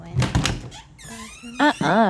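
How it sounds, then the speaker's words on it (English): A bathroom door in need of grease squeaks as it moves, giving rising whiny tones and a thunk, with a voice speaking at the start. "This door needs some grease."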